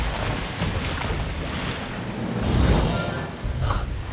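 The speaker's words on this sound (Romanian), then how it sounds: "Cascada!" A waterfall rushes in a cartoon about a giant dinosaur and a cave, heard as a loud, constant roar of falling water that surges louder near the middle, with no voices.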